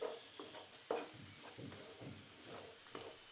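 Onions and coconut pieces are sautéed in a pan for a Kerala-style squid roast, with a soft steady sizzle and repeated light scrapes and stirs of a spatula, quiet and close, with no talking.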